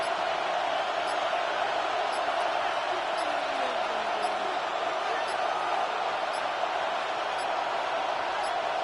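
A steady, dense roar of a football stadium crowd on third down in an NFL wild card game, loud and unbroken throughout with no distinct cheers standing out.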